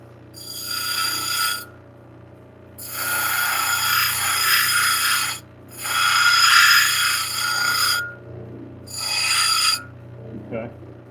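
A hard stone, flint and larimar, is ground on a lapidary grinder to shape a cabochon, in four loud rasping bursts separated by short pauses and heard close up over a low motor hum.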